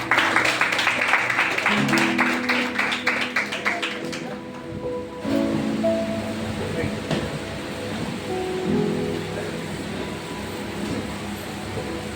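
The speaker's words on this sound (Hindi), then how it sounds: "ये जोरदार परमेश्वर के लिए तालियां बजाएं" A church congregation at a Sunday sermon claps for God in a quick, rhythmic beat mixed with voices; after a few seconds the clapping drops away, leaving speech and tonal sounds.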